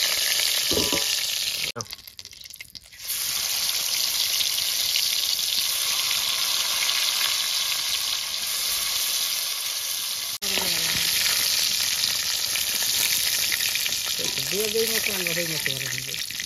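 Sea fish frying in hot oil in a village-style cooking setup, a steady loud sizzle running throughout with a brief dip early on, occasional stirring, and faint voice fragments near the end.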